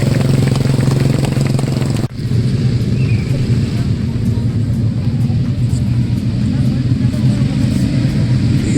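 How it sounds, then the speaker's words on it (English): Army motorcycle display team riding at an Army Day parade, a loud steady rumble of several bike engines, briefly cut near two seconds, with a voice talking over it. "the moving motorcycle"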